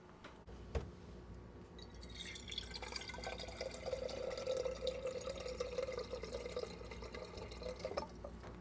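Water runs from a tap into a blue and white mug, a steady trickle rising in pitch as the mug fills, faint and close with a few clinks around it.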